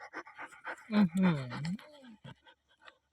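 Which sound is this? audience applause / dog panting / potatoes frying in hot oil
dog panting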